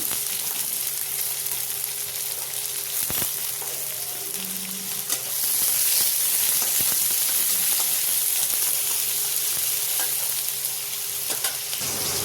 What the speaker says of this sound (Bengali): কেটে রাখা পেঁয়াজটা হালকা ভেজে নেব।